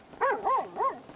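A dog in the video game GTA V gives three evenly spaced whining, bark-like yelps, each rising and then falling in pitch, fairly close and standing alone.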